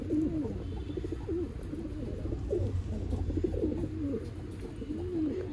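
Pigeons of an old-line breed cooing repeatedly in a loft, soft rolling coos overlapping one another at close range over a steady background hum.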